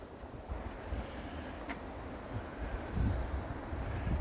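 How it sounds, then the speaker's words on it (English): Blustery wind gusting outdoors in a garden with a dahlia bush, a steady broadband rush with a stronger surge near the end, no voices. "It's a blustery day today."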